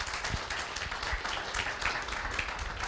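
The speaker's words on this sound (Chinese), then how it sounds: "先给你们自己本身一个热烈掌声，好不好？" Audience applause at a leadership training session, a steady patter of many hands clapping, moderately loud and continuous without voices over it.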